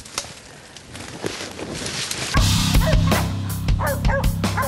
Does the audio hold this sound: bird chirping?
no